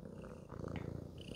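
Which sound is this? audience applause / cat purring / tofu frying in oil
cat purring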